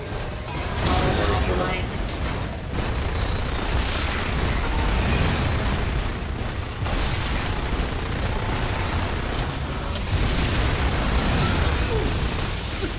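Repeated explosions and dense combat noise from the co-op shooter Lost Planet 2, a loud, continuous barrage of booms and bursts with voices talking underneath.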